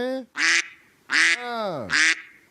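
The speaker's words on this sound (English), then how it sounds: "All I hear is a bunch of ducks, man." Ducks quack in a quick series of loud, nasal, harsh calls with short gaps between them, close and prominent.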